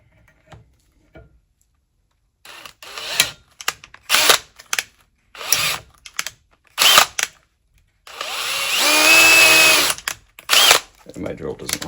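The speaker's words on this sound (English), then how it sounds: "And my drill doesn't like that." A power drill bores into the parts of a Colt M16A1 Bowman parts kit build during barrel install, firing in short bursts and then in one long, straining run, close and loud.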